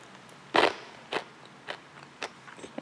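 Sharp crunches of someone biting into roasted crunchy chickpeas, close to the ear, one loud bite followed by several quieter, spaced chews.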